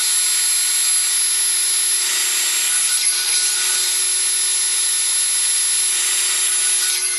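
Steady, continuous machining noise from a metal cut being taken on a shaper spindle mounting arbor, a hissing high-pitched grind with a faint low hum beneath, holding level for the whole stretch with no talk.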